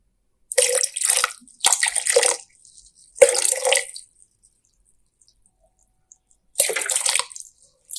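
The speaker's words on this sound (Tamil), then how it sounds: "வினிகர் சேர்த்திக்கிறோம்." Vinegar being poured into a pot of boiling salt water for pickling vegetables, heard as four separate splashing pours with quiet gaps between them, close and fairly loud.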